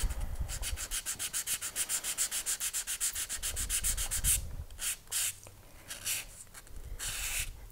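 Sanding a bronze cuff bracelet smooth: quick rhythmic strokes of abrasive rasping on the metal, steady and close for about four seconds, then slower, more scattered rubs.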